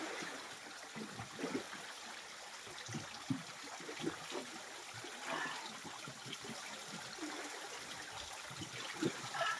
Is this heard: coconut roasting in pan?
no